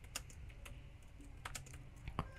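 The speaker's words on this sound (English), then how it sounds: "let me just quickly type another paragraph" Keys on a computer keyboard clatter in quick, uneven bursts of typing, close and moderately loud against a quiet room, with no talking.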